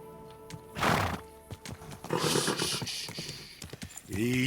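A horse in Kingdom Come Deliverance II whinnies loudly, then hooves clop and a second neigh follows, with snorts and shuffling movement in between.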